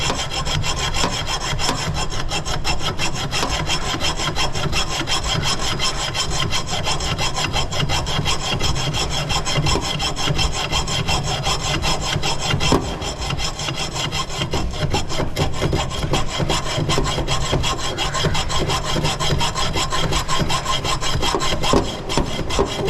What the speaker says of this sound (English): Now let's try to hacksaw, see if we can